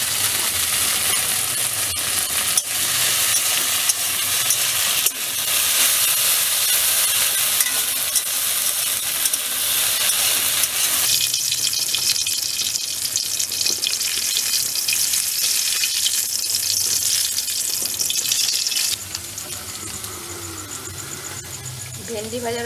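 Okra frying in oil in a home kitchen, a loud, continuous sizzle with stirring scrapes throughout, dropping in intensity near the end, while people talk in the background.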